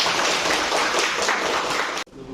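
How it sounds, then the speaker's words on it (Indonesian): Classroom students applauding presenting groups, a dense burst of clapping that stops abruptly near the end and gives way to a quieter room. "Berikan tepuk tangan untuk kelompok 1 dan kelompok 2 yang sudah dilakukan"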